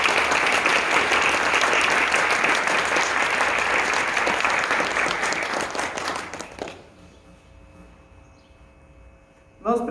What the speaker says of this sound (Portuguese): Vamos dar uma salva de palmas para eles,